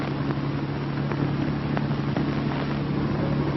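Steady, low drone of a P-39 Airacobra aircraft engine idling on the ground, a continuous even hum with a faint rough pulse, heard as if from inside the cockpit.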